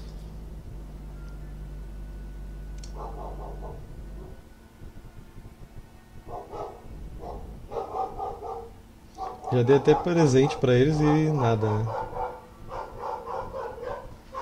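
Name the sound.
speaker's dogs barking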